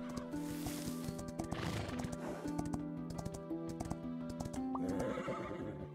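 Horse in the Star Equestrian video game whinnying and neighing over steady hoof clip-clops and game music, loud and continuous throughout.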